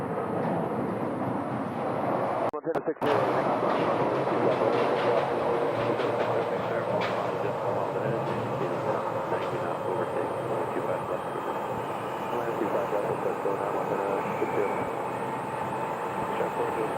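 The Phoenix SkyTrain passes at Sky Harbor airport, heard as a continuous broad rumble and roar at steady loudness with a brief dropout early on, and faint clatter under the steady noise.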